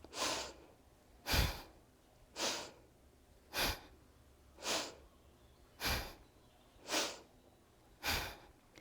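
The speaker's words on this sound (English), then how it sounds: "So inhaling forward, exhaling backwards." Rhythmic, forceful breaths during a kundalini yoga exercise, eight evenly spaced breathy rushes roughly once per second, close and fairly soft, with nothing else in between.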